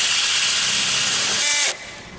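A power drill drives screws into a spring hinge, a loud continuous high whir holding steady for most of the moment, then cutting off sharply near the end, no voices.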